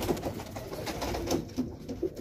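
A pigeon coos several times in a loft where squabs are being raised, soft repeated low calls set against steady background noise, with no one speaking.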